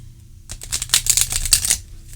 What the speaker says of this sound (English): We'll do 3 riffles.